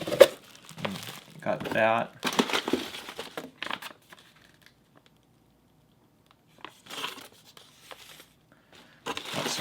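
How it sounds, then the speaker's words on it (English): Packing paper crumpled and crinkled while unboxing a lock-picking puzzle lock, several bursts of rustling separated by quiet pauses, with a brief spoken remark early on. "let's discard a little bit of the paper."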